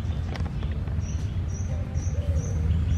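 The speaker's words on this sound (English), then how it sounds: "You can hear the birds." Outdoor birdsong in a quiet French countryside spot, a few short high chirps repeating at regular intervals over a steady insect-like hum and low background noise, with no talk.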